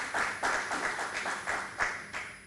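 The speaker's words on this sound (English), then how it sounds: "A big round of applause for him." Conference attendees at a plenary session clap for a speaker in a small, sparse burst of distinct claps heard fairly close.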